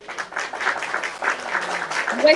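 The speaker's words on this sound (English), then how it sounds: "You did not remind me to do the round of applause." A round of applause during a live pitch workshop, fairly faint, uneven clapping mixed with a voice talking over it and rising slightly toward the end.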